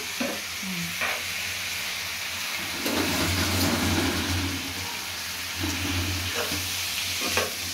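Fried rice stir-fried in a home kitchen pan, with steady sizzling broken by scraping stirs and clanks of the spatula, close and continuous beneath a low background hum.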